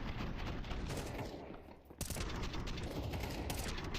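Gunfire in the video game Counter-Strike 2 during a professional match, heard as quiet bursts of rapid shots with mechanical clicks and a sharp crack midway, set against a low game background.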